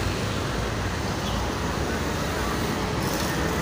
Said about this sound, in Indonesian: Datang lagi nih double decker Voyager Jetbus 3 ya,